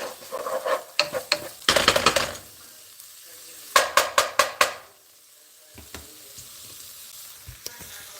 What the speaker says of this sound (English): Now this is really sauteing. I can smell the coconut.